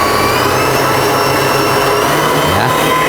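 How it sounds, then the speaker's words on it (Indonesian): An electric mixer beats marble cake batter for coffee and tape marble cake, a steady loud whirring motor drone running continuously throughout, with no talking. "Nah, lalu kita mixer kurang lebih 10 menit."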